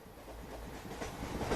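The inside of a moving railway compartment gives a low, steady rumble with faint rhythmic clatter from the wheels, quiet and continuous with no voices.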